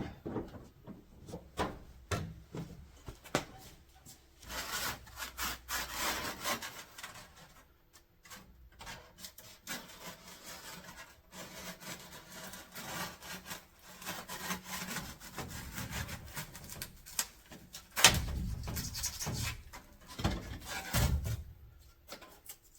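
Styrofoam insulation being trimmed to fit inside a truck camper: quiet, irregular rasping and sawing strokes in uneven bursts, with a few louder scrapes near the end and no talk.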